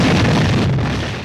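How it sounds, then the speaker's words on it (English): Explosion from a garden shed, a loud, dense roaring blast that fills the moment and slowly fades, with no voices over it. "the loud crash noise had come from Miss Wimple's shed"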